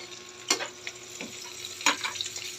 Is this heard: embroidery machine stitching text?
no